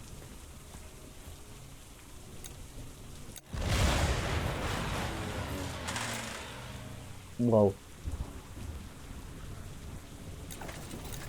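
Rain and thunder in the war strategy game Hex of Steel: steady rainfall hiss broken by a heavy thunderclap rumbling for a few seconds, then a second short crack later, with a brief exclamation from a voice.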